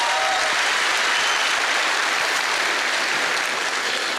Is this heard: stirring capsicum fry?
no